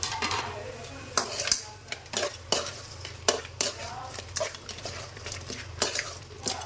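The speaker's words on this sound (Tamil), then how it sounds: "அப்படியே கொத்தமல்லி தலையை தூவி ஒரு திருப்பி தூக்கிக்கலாம்." Pepper crab fry being stirred and tossed in a pan, with repeated sharp scraping clatters of a spoon against the pan over a steady low sizzle, close and fairly loud.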